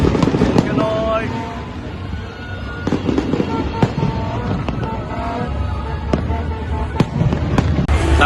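New Year fireworks at SM Mall of Asia pop and crackle at a distance over a steady crowd murmur and background rumble, with sharp bangs scattered throughout.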